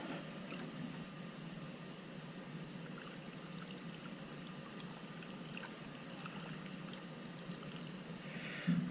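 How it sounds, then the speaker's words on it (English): Water poured into a rock tumbler barrel holding rocks and ceramic pellets, a soft, steady trickling pour held quietly for several seconds with a small clatter at the end. "Let's go ahead and add the water."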